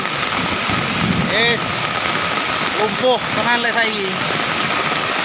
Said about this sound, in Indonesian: Sungai semakin besar.